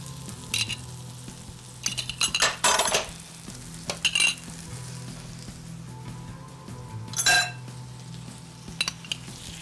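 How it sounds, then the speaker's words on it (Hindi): Yogurt being spooned into tawa kaleji in a hot pan, with a steady sizzle broken by a few sharp spoon scrapes and clinks against the metal, with no talking. "दही ऐड कर रही हूँ मैं इसमें, तकरीबन 3 टेबल स्पून ऐड करूँगी।"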